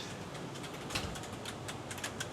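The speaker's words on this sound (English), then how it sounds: "You can hear the dosatrons clicking away," Dosatron dosing pumps tick away in a cannabis grow room, making faint, irregular clicks scattered over a steady background hiss.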